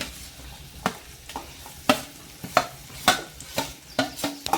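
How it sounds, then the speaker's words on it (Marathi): Figs and dates being sautéed in melted jaggery in a pan for dry-fruit modak, a soft sizzle under regular, sharp scrapes and taps of a spoon against the pan, close and rhythmic. "आता आपण हे अंजीर आणि खजूर त्याच्यात परतून घेऊ"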